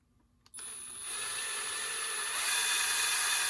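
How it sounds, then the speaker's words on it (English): A power drill spins a 3/32 inch bit into a small part of a cheap HO scale steam locomotive kit, starting abruptly after a brief pause and then whining steadily and close, its pitch climbing slightly and holding loud to the end. "3 32" drill bit should do the job."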